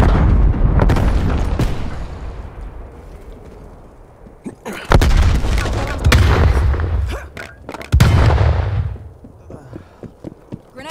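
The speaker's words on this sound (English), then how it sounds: "Throwing C4." A thrown C4 charge detonates in Call of Duty Cold War multiplayer: heavy, loud booms burst out after a quieter lead-in, followed by a second blast and scattered gunfire trailing off.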